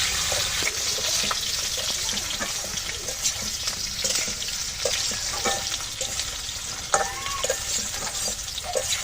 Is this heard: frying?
yes